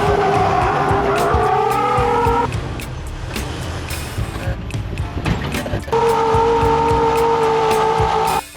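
A Jeep LJ off-roading on 32-inch tires, its engine revving loud and close with a steady whining tone, easing off midway amid crunching and scraping, then revving hard again.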